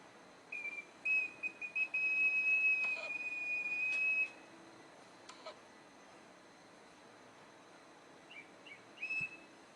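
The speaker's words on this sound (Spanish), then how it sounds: "Es una botella silbato simple." A pre-Columbian Vicús clay whistling bottle blows a few sustained, high-pitched tones, some short and some held for seconds, then fades to quiet with faint chirps.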